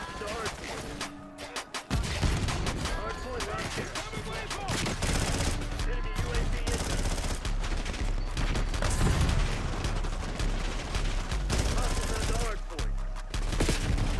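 Rapid bursts of PPSh-41 submachine gun fire in the Black Ops 6 video game, loud and dense, repeating almost continuously after a brief quieter opening, with voices talking over the shooting.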